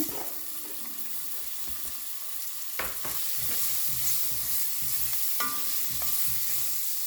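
Ginger and onion frying in a pan for a vegan cauliflower curry, a gentle continuous sizzle with repeated spoon scrapes and clinks against the pan, close and unaccompanied by talk.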